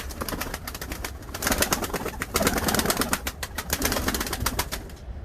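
Pigeons, the Arab breed, cooing and fluttering close by in a loft, a steady busy mix of soft coos with wing and shuffling noise throughout, no talking.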